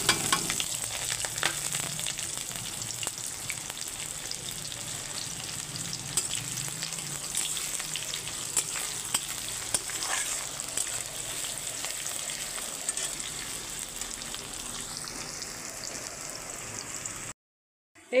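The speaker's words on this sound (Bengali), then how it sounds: "এবারে দিয়ে দিচ্ছি পেঁয়াজ কুচি।" Chopped onions frying in hot oil spiced with cardamom, cinnamon, cloves and bay leaf for chicken kurma: a steady, loud sizzle with occasional stirring that runs almost to the end, then cuts out abruptly.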